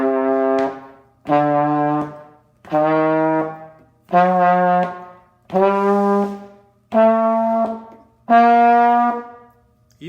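A brass mouthpiece buzzed alone, seven separate sustained pitched buzzes stepping upward one after another like a scale, each held about a second with short gaps, loud and close.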